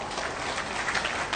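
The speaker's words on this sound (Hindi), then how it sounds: "तालियां हो।" A short burst of steady applause from an audience at a government ceremony handing out appointment letters, sustained and fairly close.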